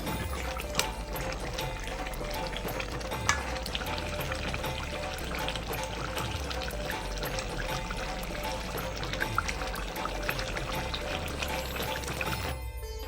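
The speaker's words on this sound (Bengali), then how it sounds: "মাংসটা আমার ফুটছে অনেকটা সিদ্ধ হয়ে গেছে" Chicken pieces for Kolkata-style biryani bubble at a steady simmer in a pot, a dense, continuous watery boiling churn close by with no talking.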